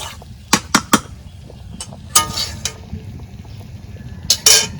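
A lid being set onto a cooking pot while chicken curry is prepared in a home kitchen, heard as several sharp metallic clinks and clatters spread out over a few seconds against a quiet background.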